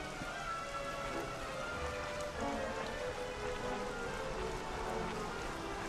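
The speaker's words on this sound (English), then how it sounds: "Okay, we're allowed to climb in the rain." Steady rain pours in the video game Dragon Quest XI S, a dense, even hiss of drops pattering on surfaces that fills the scene without pause and without voices.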